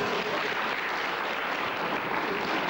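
Studio audience at a 1998 Polish comedy evening bursting into dense, loud, continuous applause, a thick uniform roar of clapping with no gaps for the whole short stretch.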